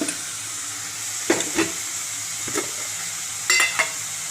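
Soaked dried ambadi (sorrel leaves) stirred in a hot pan, a steady close sizzle broken by a few scraping stirs of the spatula, with no voices.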